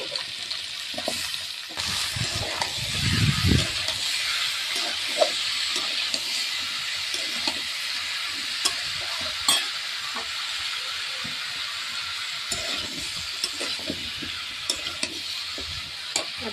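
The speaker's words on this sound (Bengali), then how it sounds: "এবার এর মধ্যে দিয়ে দেবো আমি কেটে রাখা কুমড়োগুলোকে।" Cut pumpkin pieces tumble into a hot frying pan for a Bengali chorchori with potato, Malabar spinach stems and prawns, setting off a steady hiss of frying with intermittent scraping and stirring, close and continuous throughout.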